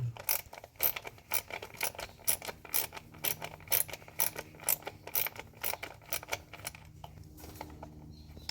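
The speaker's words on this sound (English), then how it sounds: "You need to unscrew the 10 mm bolt that holds the coil pack to the head." A ratchet wrench clicks rapidly and repeatedly as it loosens the 10 mm bolt holding the coil pack to the cylinder head of a 2010-2015 Kia Optima. The crisp, close bursts come in quick runs and slow near the end.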